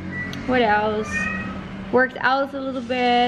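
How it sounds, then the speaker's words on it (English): A house cat meows twice indoors, rising drawn-out calls heard close by beneath and between a person's casual talk. "No, that's the cat."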